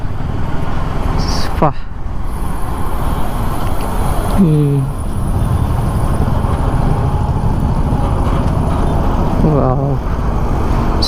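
A Suzuki Gixxer 250 motorcycle is ridden in first gear through city traffic, with loud continuous engine and wind roar throughout while the rider talks over it.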